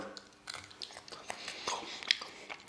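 A single hazelnut from an ALDI chocolate bitten and chewed close to the mic, with a few soft crunches and chewing sounds, fairly quiet.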